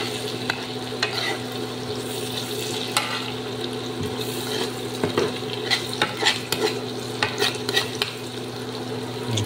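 Ginger, onion, garlic and chili fry in a pan with a soft, steady sizzle, broken by frequent clicks and scrapes of a utensil stirring against the pan.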